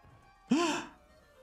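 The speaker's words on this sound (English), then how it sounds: "Gasp." A short, sharp gasp from a character in Final Fantasy VII: Ever Crisis, breathy and close, standing alone against a quiet background.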